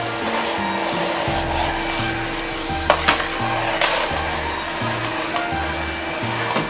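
A Numatic Henry cordless vacuum cleaner runs on its low setting, a steady motor whine with a hollow drone, interrupted by rhythmic bumps and a few sharp knocks as it is pushed around.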